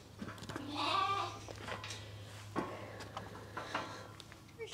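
Goats in a cattle pen in cold weather let out a wavering, drawn-out bleat close by, followed by fainter calls and scattered clanks over a steady low mechanical hum.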